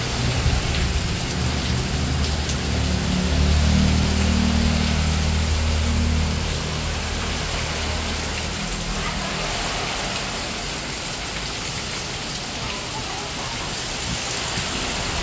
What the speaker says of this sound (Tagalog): bumuhos na nga po ang malakas na ulan